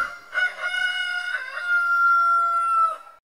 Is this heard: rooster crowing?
yes